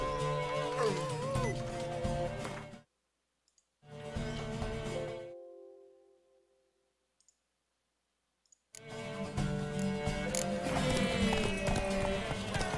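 Horse hooves clip-clop in a steady rhythm in The Witcher 3, broken by a couple of silent gaps, with music or ambience running beneath.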